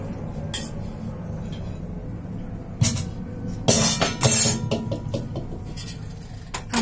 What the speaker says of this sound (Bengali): আমরা একটি বাটি বসিয়ে দিয়েছি চিনি সিরা বানানোর জন্য।